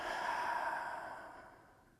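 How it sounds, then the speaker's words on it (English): A single slow, deep exhale, close and soft, a breathy rush that fades gradually over two seconds in a quiet room. "Do some slow, deep breathing."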